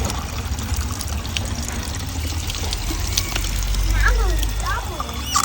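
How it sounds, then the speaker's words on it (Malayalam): Water poured into a homemade splash water gun, a continuous trickle and slosh of filling liquid heard close, with a voice talking over it. "ഇനി അടുത്ത പരിപാടി വെള്ളം നിറക്കലാണ്"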